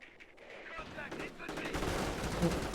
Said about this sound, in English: Strafe comes in, gets a pin away, and kills a couple of Panzer Grenadiers